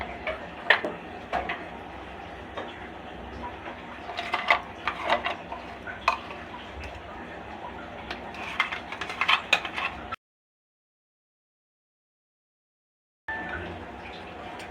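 Reduced boiled milk being stirred in a pot for homemade ice cream, a steady run of soft spoon scrapes and light clinks close by, broken by a few seconds of silence before the stirring resumes.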